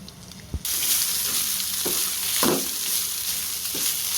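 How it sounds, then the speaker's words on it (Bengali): Cold rice and plenty of onion frying in a pan, a continuous close sizzle with occasional scraping stirs and spatula taps against the pan. "এখন বেশ কিছুক্ষণ ভাজতে হবে, বেশ কিছুক্ষণ।"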